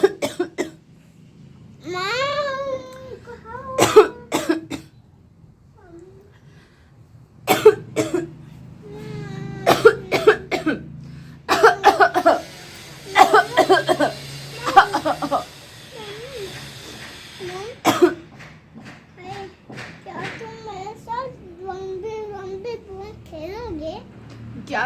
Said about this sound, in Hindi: मम्मा को खांसी आ रही है।